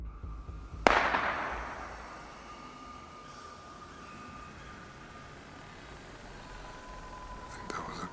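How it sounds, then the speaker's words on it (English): A single sharp gunshot cracks once in snowy woods near a home. It is followed by a long fading echo, then quiet low background hiss, with a faint click near the end. "think that was a gunshot."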